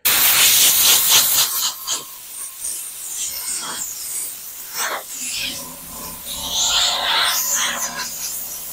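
Compressed air blasts debris off a freshly CNC-carved wooden marina village sign, coming in several loud, close hissing bursts of varying length with pauses between them.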